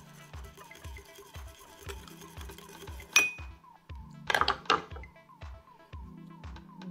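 A utensil mixing light soy sauce and wasabi in a small dish makes soft repeated clinks and taps in a steady rhythm, with a few sharper ceramic knocks near the middle, over quiet background music.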